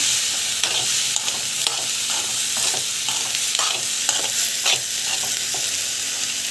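A pan of ingredients sautéing with a constant bright sizzle, stirred with repeated scraping strokes at an irregular rhythm. The sound is close and fairly loud, with no one speaking.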